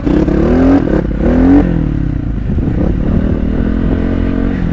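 Motorcycles and scooters ride on an off-road track near Baglung. A nearby engine revs and rises twice, then keeps running with a steady, rumbling drone and some clatter.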